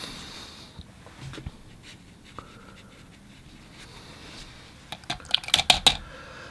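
A watercolor round brush is rolled and swirled in a palette, giving soft scratchy rubbing followed by a quick run of light clicks and taps near the end, close and quiet.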